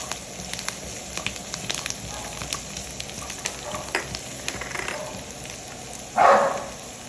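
Celery being stir-fried into pancit canton noodles in a hot pan, giving a steady crackling sizzle with scattered sharp pops and a louder hissing burst near the end.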